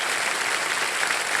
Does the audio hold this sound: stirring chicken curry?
no